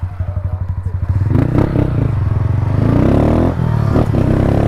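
A Yamaha Factor 150 motorcycle engine putters at idle with regular thumping pulses, then revs up into a louder, rising and falling roar close by.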